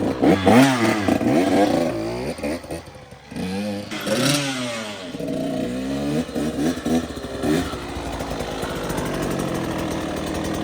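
A small motorcycle with a Lectron Billetron Mini 29mm carburetor is ridden in laps, its engine repeatedly revving up and down, loud when close and then fading as it moves away, settling into a steadier distant drone.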